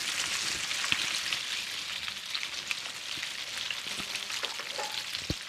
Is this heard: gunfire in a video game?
no